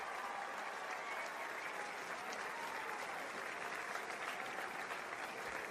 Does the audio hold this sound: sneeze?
no